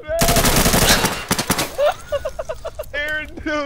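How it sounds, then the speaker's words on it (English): Rapid bursts of automatic gunfire from players hip-firing in the shooter game Insurgency, a loud sustained volley followed by scattered shots and chattering bursts. "Everyone's just sitting there hip firing at like this one dude"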